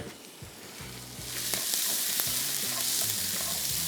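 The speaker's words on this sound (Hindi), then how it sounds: "सबसे पहला काम तो हम इसमें शामिल करेंगे अदरक लहसुन, और इसको थोड़ा सा करेंगे फ्राई" Ginger and garlic fry in a pan with a bright, steady sizzle that swells louder after the first second and then holds, with occasional soft clinks and stirring sounds.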